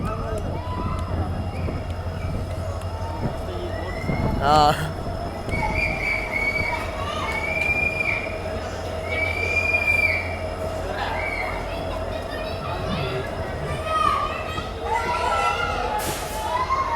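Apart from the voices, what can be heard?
Kushtagi Express train arriving at Kushtagi station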